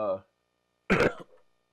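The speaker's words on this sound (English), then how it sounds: "Excuse my cough there." A single close, abrupt allergy cough following a brief voiced sound, then silence.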